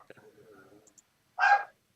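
A single short, sharp bark-like burst from a dog, up close and loud, heard right after a stretch of low talk and followed by silence.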